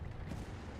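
A tank destroyer's main gun firing in World of Tanks, a single dense, booming report that fills the short moment.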